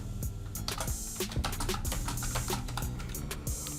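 Rapid, steady typing on a computer keyboard, close and continuous, with clustered key clicks and occasional heavier strokes over a constant background hum, while a text is entered for a Discord sticker design.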